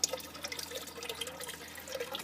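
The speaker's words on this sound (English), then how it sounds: "as you can see the water is flowing back down. And I have a small water pump in here." Tap water trickles and drips back into a small tank in a home hydroponics setup fed by a small water pump, a faint, steady splashing with light drips throughout.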